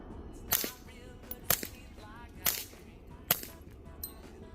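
Suppressed .22 rifle or pistol shots through a HUXWRX Flow 22 Ti titanium suppressor, mixing supersonic and subsonic rounds: four sharp, fairly quiet cracks spaced about a second apart, plus a fainter fifth, over a low background.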